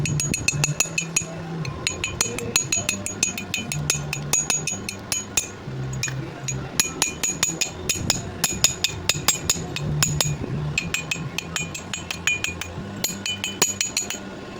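A welding machine under test: sharp metallic clinks and a crackling, sputtering arc repeat in an irregular rhythm close to the microphone.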